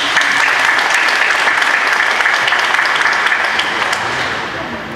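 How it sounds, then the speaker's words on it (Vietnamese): A congregation at a Catholic thanksgiving Mass for a newly ordained priest breaks into loud, sustained applause that fills the church and fades slightly at the end. "Chúng con xin chúc mừng Cha bằng một tràng pháo tay thật lớn."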